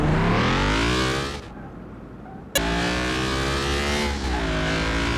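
A Nissan 370Z Nismo on racing tires revs hard on a game test track, its engine climbing through gears, cutting out briefly at a shift with a sharp click, then pulling again, loud and close.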